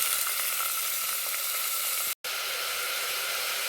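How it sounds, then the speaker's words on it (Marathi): Chopped onion with bay leaf and cinnamon sizzles steadily in hot oil in a pressure cooker, a loud continuous frying hiss broken by one very brief silent gap. "इकडे कांदा परततोय"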